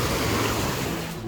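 Large ocean waves break along the French Riviera shore, a steady close roar of surf filling the whole stretch, with no voices over it.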